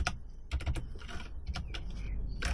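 Several short bursts of clicks come from typing on a computer keyboard, with quick clusters of keystrokes separated by pauses, fairly close against a low background hum.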